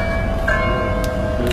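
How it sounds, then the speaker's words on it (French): An automated bell rings with steady sustained tones, loud and continuous throughout, with a low rumbling background underneath. "Vous entendez cette cloche, c'est une cloche par rapport à la bonne nouvelle que je viens de recevoir."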